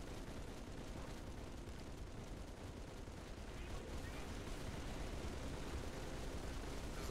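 Sustained automatic machine gun fire in the video game Halo 3 rattles on as a continuous, faint, dense barrage with no clear gaps.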